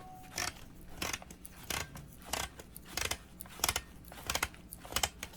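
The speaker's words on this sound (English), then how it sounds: "Now you can simply turn the bobbin holder clockwise and thread it down." Plastic-threaded bobbin holder being turned clockwise into a self-inflating life jacket, a series of faint, irregular close-up clicks and ratcheting scrapes at a fairly steady pace.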